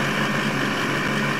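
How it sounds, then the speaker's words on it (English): A truck engine in the SnowRunner video game runs loudly in a constant, dense drone of broadband rumble and hiss, unbroken and close. "Man, is that engine loud, holy."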